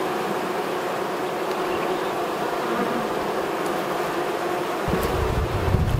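Honey bees swarm and buzz around an open hive as a beekeeper works it, a steady dense drone close to the microphone with some wind rumble, growing louder near the end.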